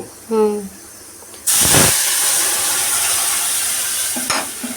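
Poppy-seed fish curry (bata macher jhal) cooking in a home kitchen pan: a short clatter, then a sudden loud hissing sizzle that holds steadily to the end, with a brief knock near the close.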